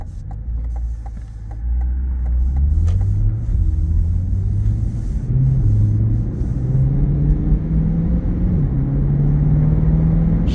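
A 2023 Chevrolet Corvette Stingray 3LT in sport mode drives along with a steady low engine rumble, its pitch climbing gradually through smooth gear changes, heard from inside the cabin with no talking.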